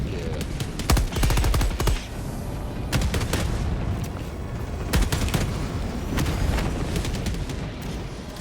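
Autocannon in Helldivers 2 fires repeated heavy, booming shots at a steady pace over ongoing loud battle noise and rapid gunfire, close and continuous throughout.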